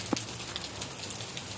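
Steady rain falls and patters on surfaces in a continuous wash, with scattered drops ticking near at hand and no voices heard.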